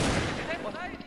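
Gunfire in the Vietnamese shooter game Truy Kích, a dense burst of loud shots that fades into ringing tails, with some speech-like sound mixed in.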